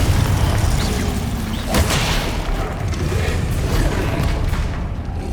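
Spell combat in Hogwarts Legacy: a Confringo fire blast bursts out with a deep boom and crackle amid a constant, loud roar of magical battle effects.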